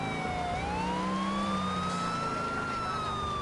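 A police car siren in the video game GTA IV wails steadily through the whole stretch, its pitch sliding up and holding, with a low engine rumble beneath and no talk.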